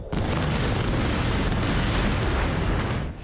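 A dense, continuous roar of heavy blasts and rumbling booms from missiles exploding in the air over Israeli cities amid air defense interceptions, loud and sustained for several seconds with no speech.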